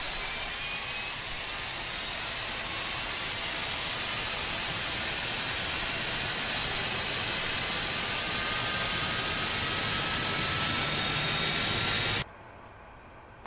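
Jet engines on a simulated Felis Boeing 747-200 in X-Plane 12 give off a loud, steady broadband roar and whine that holds unchanged, then cuts off abruptly to a quieter background near the end.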